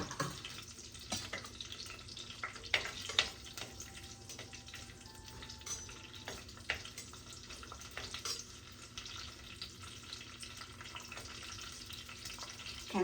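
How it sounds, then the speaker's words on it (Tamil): Fenugreek, mustard seeds and cumin sizzle and pop in hot oil in a clay pot for mutton leg kulambu, a close crackling fry with scattered sharp seed pops and stirring scrapes. "இப்போ வந்து வெந்தயம் கடுகு சீரகம் போட்டுக்கொள்கிறேன்"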